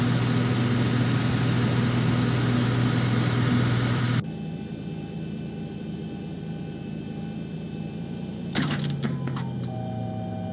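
Boeing 737 MAX 8 jet engines spool up in the X-Plane 11 flight simulator on the ground at Brussels Zaventem airport, a loud, steady drone that cuts to a quieter whine, with a brief burst of clicks near the end.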